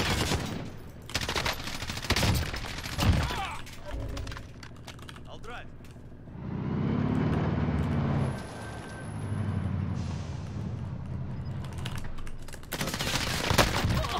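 Rapid gunfire aimed at a car in Call of Duty: Warzone, dense machine-gun bursts at the start and end with a talking voice in between.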